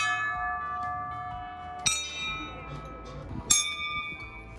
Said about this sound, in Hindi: इस मंदिर में चारों तरफ घंटियां हैं